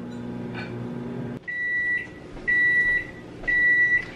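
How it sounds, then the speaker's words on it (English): A microwave oven heating boba hums steadily, then its motor stops and three loud, evenly spaced electronic beeps ring out close by, with no talking. "15 seconds are already on my microwave."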